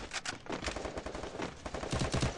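Rapid gunfire in a shooter video game, a dense burst of repeated loud shots in quick rhythm over about two seconds, with no voices.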